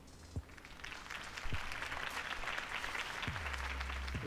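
Crowd applause in the Batman Telltale video game, following a campaign speech for the city: steady broadband clapping sustained throughout, with a few low thumps and a rising low hum near the end.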